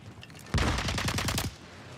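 Sniper fire in Call of Duty: Warzone, a quick burst of sharp cracks in rapid succession, loud and close over steady game background noise, with no talking.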